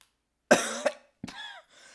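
A close, sharp cough followed by a second shorter one, then a rougher throat-clearing cough trailing off into quiet.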